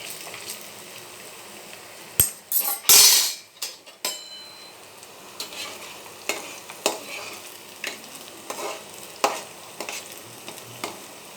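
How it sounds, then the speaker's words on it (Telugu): Veg manchurian balls deep frying in oil while being turned with a metal ladle, giving a steady soft sizzle broken by scraping clinks and a few sharp metallic knocks against the pan. "ఇవి అయితే చక్కగా ఫ్రై అయిపోయినాయండి."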